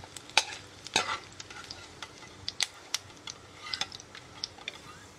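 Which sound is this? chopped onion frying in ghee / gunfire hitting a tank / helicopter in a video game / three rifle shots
chopped onion frying in ghee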